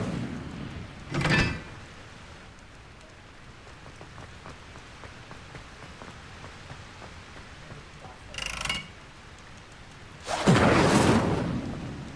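A fire spell cast in Hogwarts Legacy bursts out as three separate whooshing flares: a short one early, another later, and a longer, louder blast near the end, set over a steady low rumbling game ambience.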